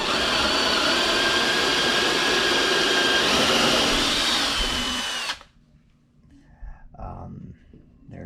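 A power drill whines loudly and steadily for about five seconds drilling into wood, then stops abruptly, leaving faint handling noises and quiet rustling.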